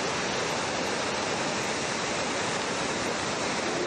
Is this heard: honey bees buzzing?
no